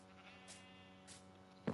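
Two faint bleats from a sheep in a video game, evenly spaced and soft, with a brief louder click at the end.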